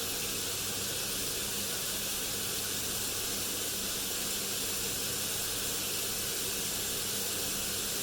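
A kitchen extractor fan runs above burgers cooking, a steady loud broadband whoosh with sizzling hiss, unchanging from start to finish with no voices.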